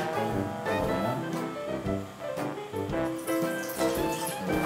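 Water pouring into a pot while making dough for cooking, a steady splashing stream with fluctuating gurgles running continuously for several seconds, close and fairly loud with no talk.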